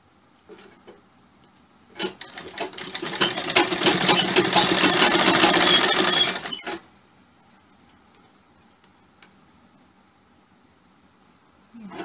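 A sewing machine stitching a blouse runs in one loud, steady burst of about four and a half seconds, with quiet clicks and handling sounds before and after.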